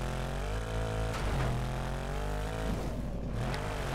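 A rally car engine in the racing game DiRT 2 revs and drones continuously, its pitch rising and falling with gear changes, loud and up close.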